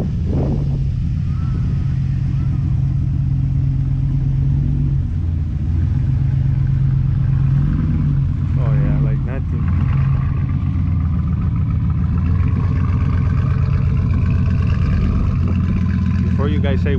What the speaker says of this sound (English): How does the truck sound?